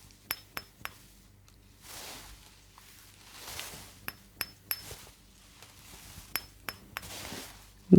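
Sharp glassy clinks like taps on tempered glass come in small clusters of two or three, separated by softer rustling, close and crisp in a quiet room.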